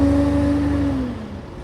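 A loud, rumbling double-decker bus engine idles close by at a Derby bus interchange, its low hum sliding slightly lower in pitch and fading a little toward the end.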